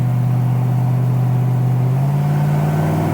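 A 1972 Chevrolet Nova on a test drive, its mid-pitched engine droning loud and steady with a slight rise in pitch partway through as it passes close by, no voices.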